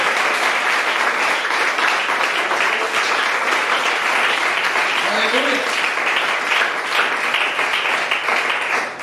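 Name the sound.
congregation applauding in church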